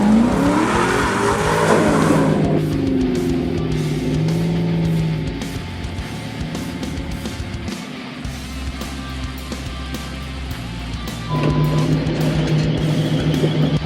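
A V8 Camaro muscle car, a budget race build, accelerates hard on race day. The engine revs loudly in rising and falling sweeps, settles into a lower drone, then surges again near the end, with no talk.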